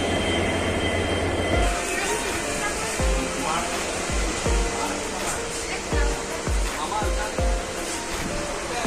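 Steady rumble inside an S1 sleeper coach of a Guwahati to Dhemaji train, broken by a regular series of heavy low thumps, with people's voices mixed in the background.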